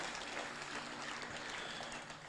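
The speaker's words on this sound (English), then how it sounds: "So please, big round of applause for Honorable Minister." Steady applause from a gathered audience at a Fijian grant disbursement ceremony welcoming a minister, a soft continuous patter of clapping heard from a distance without any talk.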